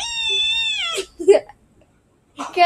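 A cat gives one long, clear, drawn-out meow close by, followed by brief human voices and a short vocal sound, with a silent pause between them.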